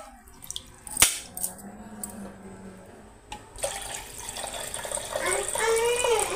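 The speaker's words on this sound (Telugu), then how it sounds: "అవే నీళ్ళు వేసి కడిగి పుట్టంతా పోయిన తర్వాత మంచి నీళ్ళతో కడగాలన్నమాట." Water poured and splashed while washing freshly picked garden vegetables, first a few knocks and faint trickles, then a louder steady rush of running water; no clear talk over it.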